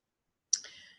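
A single sharp computer mouse click sounds after a moment of silence, close and crisp with a brief fading tail.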